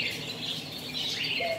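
Caged birds, pigeons among them, chirp and twitter at a bird market in Al Ain, UAE, a busy close chorus of quick high calls with faint rustling and no talk.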